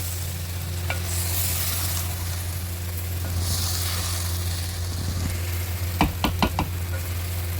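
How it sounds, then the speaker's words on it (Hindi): Okra sizzles steadily in a pan as chopped tomatoes are stirred through, with a few sharp spoon knocks against the pan near the end over a constant low hum. "टमाटर को भी इसमें मिक्स कर लेते हैं"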